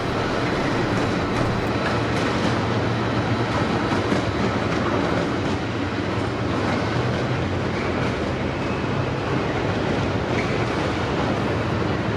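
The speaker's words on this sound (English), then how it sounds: "The dirtiest train on the railway passes through" A railhead treatment train rumbles steadily past close by in torrential rain at Carlisle, a dense, continuous roar of wheels and wagons with faint rhythmic clacking throughout.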